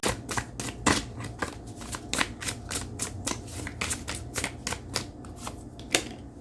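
Tarot cards are shuffled and drawn, making a rapid series of crisp, close flicks and slaps in an uneven rhythm, with no talk.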